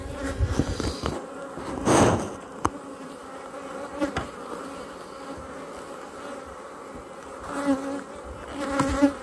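Honeybees from a colony of black bees hum around an open hive during an inspection, a dense, continuous buzz close by with a few louder passes near the listener and no voices.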